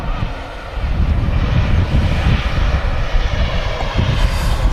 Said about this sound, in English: Jet2 A330 just arriving here at Manchester.